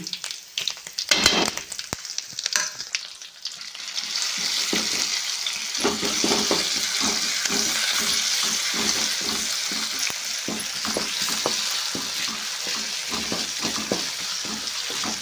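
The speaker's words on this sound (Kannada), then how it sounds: "ಕರಿಬೇವು ಹಾಕಿದ ತಕ್ಷಣ ಚಟಪಟ ಚಟಪಟ ಅನ್ನಕತ್ತು" Curry leaves, garlic and green chilies dropped into hot oil while cooking radish greens: scattered crackles and pops at first, then a loud, continuous close sizzle with sputtering bursts and occasional stirring scrapes.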